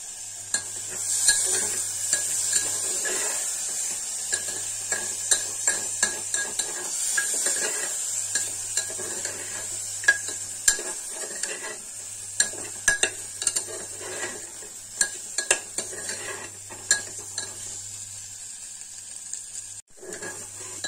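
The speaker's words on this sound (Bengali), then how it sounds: "গোবিন্দভোগ চালটা দিয়েও আমি অল্প একটু নাড়াচাড়া করে, মানে অল্প একটু ভেজে নেবো আর কি" Gobindobhog rice and chicken stir-fried in a pan: a steady sizzle runs throughout, with repeated scraping and clinking of a utensil against the metal, fairly close and without talk.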